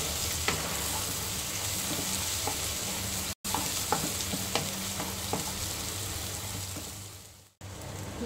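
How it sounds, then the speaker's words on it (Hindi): Onions with slit green chillies frying in a pan for mutton kalya, a steady close sizzle running throughout with scattered clicks and scrapes of stirring. "प्याज को गोल्डन ब्राउन फ्राई कर लेंगे।"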